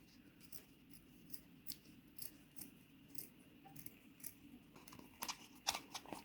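Quiet snips of scissors cut a strand from a microfiber cloth, faint and close, scattered irregularly over a low room hum, with a few sharper clicks near the end and no talk.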